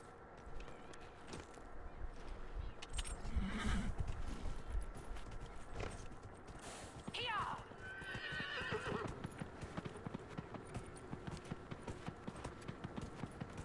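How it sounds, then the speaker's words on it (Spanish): A horse in the video game Dragon Age Inquisition trots with rhythmic clip-clopping hooves and gives a clear neigh, the hoofbeats continuing steadily at moderate volume with faint game ambience behind. "El caballo se maneja maravilloso, ¿eh?"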